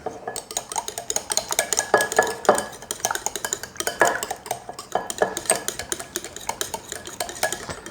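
Softened butter and an egg being mixed in a bowl, with a busy run of clinking, scraping utensil strokes against the bowl, steady and close throughout.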